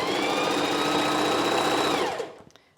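A sewing machine runs fast and steady while back stitching a knit t-shirt neckband, a close, continuous whirring buzz that stops abruptly near the end.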